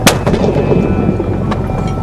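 A military mortar fires with a heavy, booming blast at the start, followed by rumbling outdoor noise and a fainter second thump a moment later.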